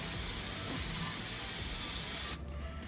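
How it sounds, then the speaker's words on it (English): Brake cleaner sprays in a steady, loud continuous hiss onto the oil cooler housing of a 2008 Nissan Pathfinder during gasket replacement, then cuts off abruptly near the end. "we are going to spray some brake clean right there"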